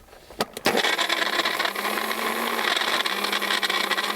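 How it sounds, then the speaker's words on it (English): A weak home blender crushes ice with lemonade and blueberries, starting with a few sharp clicks, then running as a loud, steady grinding whir to the end. "what's the point of blending up lemonade and ice?"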